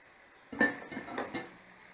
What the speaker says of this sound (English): at this stage, I think we'll put in these roughly chopped celery leaves